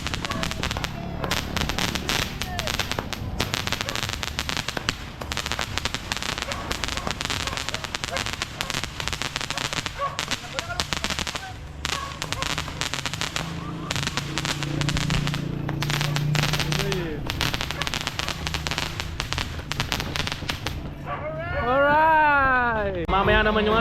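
Dragon fireworks and firecrackers burst in a dense, continuous stream of cracks and bangs at a New Year celebration, loud and close, ending with whistling, rising screeches of launching rockets.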